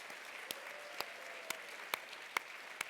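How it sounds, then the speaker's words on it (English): Audience clapping for Terry at a conference closing plenary: a handful of separate, evenly spaced claps, roughly two per second, stand out faintly over a soft, hissy room wash. "I would like for us to give Terry a huge round of applause."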